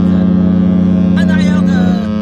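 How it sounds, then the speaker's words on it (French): A cruise ship in the Caribbean sounds its departure horn, a deep, steady blast, loud and continuous for about two seconds, with faint voices and higher tones over it. "Il tire un peu son départ de klaxon"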